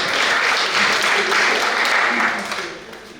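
An audience at a junior science and maths quiz claps for a team, a sustained wash of applause that fades slightly at the end.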